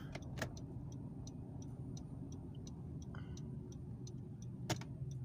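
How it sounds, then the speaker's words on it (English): Distant road traffic in Victoria, BC, forms a faint, steady hum of cars, with light rhythmic ticking running over it. "got a little traffic going on."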